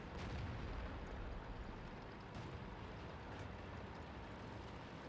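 A tank cannon in the World of Tanks video game fires one heavy, booming blast at the start, then a low rumbling tail fades out; it sounds fairly distant and muffled.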